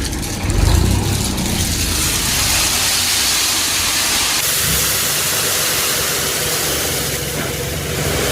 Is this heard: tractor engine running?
yes